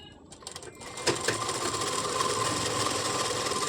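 Sewing machine running a hem on a nighty, starting with a few uneven stitches before settling into a steady continuous whir that grows slightly louder, with no talking.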